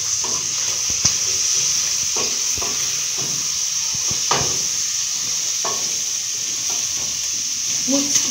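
Onions fry in a pan with beef, giving a steady hiss under irregular scrapes and taps of a spoon as they are mixed, close and continuous.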